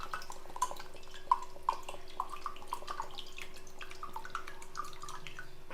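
Close, distinct drops of tender coconut water fall one by one into a glass at an uneven rhythm over a faint steady hum, with no talking.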